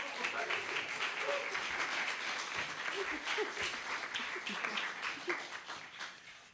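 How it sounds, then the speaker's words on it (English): An audience applauds for a volunteer coordinator after her introduction, with a steady wash of clapping throughout and a faint voice or two mixed in, tapering slightly at the end. "let's give her a round of applause"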